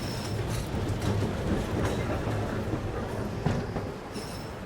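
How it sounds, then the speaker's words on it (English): Tram pulling away in the video game Syberia: The World Before, a continuous rolling rumble with rhythmic clickety-clack of wheels and a brief metallic knock near the end, no talking. "And away goes the tram."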